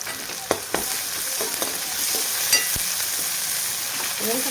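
Tomatoes with a little turmeric fry in oil in a pan, giving a steady close sizzle broken by a few sharp stirring clicks and scrapes.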